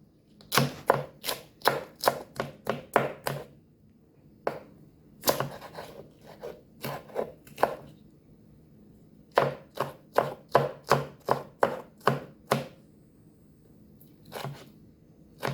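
A knife chops Scotch bonnet peppers into pieces for a beef stew. The sharp, close board knocks come in quick rhythmic runs, separated by short pauses, with no talking.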